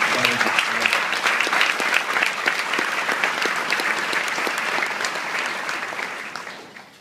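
A crowd claps steadily and loudly for several seconds, the applause holding even before tapering off toward the end.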